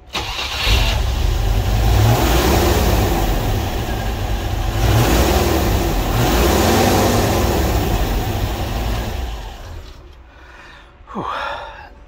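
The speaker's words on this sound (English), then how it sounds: "it starts on the key pretty much" A Land Rover 101 Forward Control truck's petrol engine cranks and catches, then runs loudly with a few revs, steady rumble throughout before cutting off near the end.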